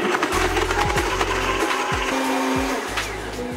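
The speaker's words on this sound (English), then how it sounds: "it's time to blend" A blender whirs loudly through oats, water and a spoonful of vanilla, its motor pulsing in short bursts of deep churning that pause and restart in an uneven rhythm.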